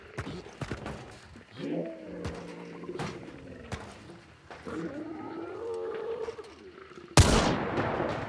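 Nitro Express heavy rifle shots in the game Hunt, a few sharp reports spaced out, with the loudest blast near the end over a background of game ambience and low animal-like sounds.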